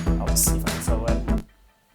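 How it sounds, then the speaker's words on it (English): Chiming guitar harmonics played on a Rickenbacker guitar, soloed from a rock song's multitrack, ring out in a short run of bright, bell-like notes before cutting off to near silence. "we have just some like guitar harmonics going ding"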